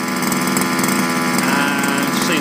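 A stock HPI Baja 5B 2.0 RC car with its standard 23cc fuel engine runs steadily, close up and loud, holding a buzzy, harmonic-rich two-stroke drone with a slight wavering throughout.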